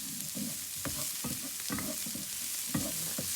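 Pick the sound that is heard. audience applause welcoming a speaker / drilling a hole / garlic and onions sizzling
garlic and onions sizzling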